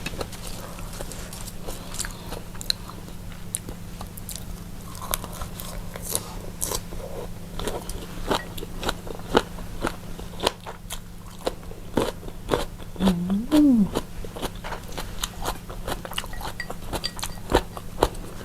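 Close-up chewing of crunchy jellyfish and crispy squid from a spicy Thai seafood soup with fermented fish sauce, giving dense crisp bites and crackles in a steady rhythm, no talk.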